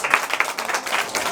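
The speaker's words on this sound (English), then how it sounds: "Can you clap for him? Clap for him." Children clapping together in a grade four mathematics classroom, a short burst of quick, fairly loud overlapping claps from the whole group.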